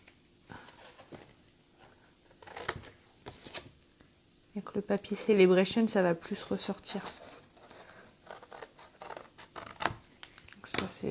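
Stampin' Up scissors snip through black decorative Sale-A-Bration paper during a papercraft triangle box project, a few sparse clicks early and then a busier burst of cutting, heard under someone speaking French.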